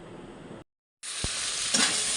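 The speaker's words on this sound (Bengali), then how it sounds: "তো চলো এখন চিচিঙ্গাটা ভাজা" Snake gourd frying in a wok, a loud sizzle that cuts out briefly, then returns stronger with a knock and a stirring scrape.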